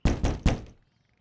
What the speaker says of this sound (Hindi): जा देख, निक्की ने दरवाजा खोला कि नहीं खोला।